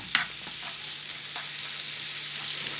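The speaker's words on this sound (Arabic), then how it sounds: "حطيت الزيت وهنزل بالثوم عشان نعمل" Garlic sizzling in hot oil in a pan for a potato dish's sauce, a steady close frying hiss with a few small spits and stirring touches throughout.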